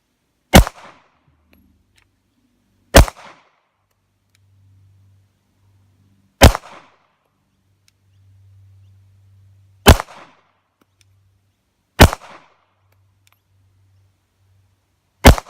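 Zev OZ9 pistol test fired at a range, six sharp single shots spaced a few seconds apart, each a loud crack with a brief tail, and faint low rumble between them.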